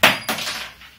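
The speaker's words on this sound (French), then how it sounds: "La clé m'a échappé." A wrench slips and drops while a 3D-printed pencil holder is being screwed together, giving one sharp metallic clatter and a quick second knock that ring out briefly, close and alone.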